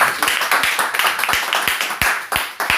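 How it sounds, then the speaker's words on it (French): A church congregation applauds in steady, rhythmic unison claps, close and loud, for about three seconds with no voices over them. "Ça, on peut applaudir pour le Seigneur pour ça."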